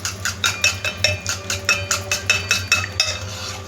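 A spoon whisks a spiced egg mixture with chili and salt for an omelette in a bowl, making quick rhythmic scraping clinks, about four to five strokes a second, close and steady, with no talking.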